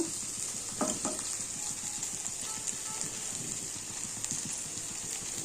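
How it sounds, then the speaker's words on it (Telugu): Okra frying in a pan, a steady bright sizzle running throughout with soft stirring and scraping clicks scattered across it, close and fairly quiet. "ఇలా బెండకాయని బాగా ఫ్రై చేసుకొని, బెండకాయ ఫ్రై అయ్యాక"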